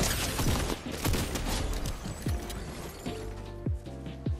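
Rapid bursts of Fortnite gunfire crackle close and loud, shots stacking in quick volleys with sharp transients and some heavier thumps between them.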